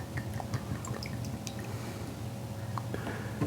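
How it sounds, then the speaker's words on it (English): Bourbon poured over ice in a glass for an Old Fashioned, a soft continuous trickle with scattered light drips and clinks, quiet and close with no talking. "I like to pour it right over that ice."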